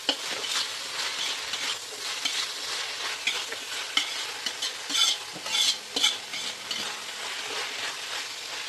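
Paneer bhurji is stirred and turned in a frying pan: a spatula scrapes and knocks through a steady sizzle, with short louder bursts near the end and no voices.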